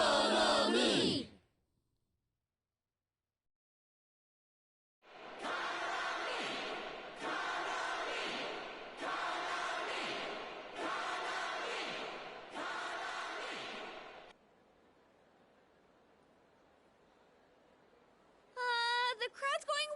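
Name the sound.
crowd chanting in Persona 4 Dancing All Night video game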